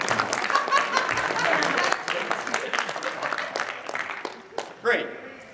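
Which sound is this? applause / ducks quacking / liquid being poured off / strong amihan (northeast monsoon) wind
applause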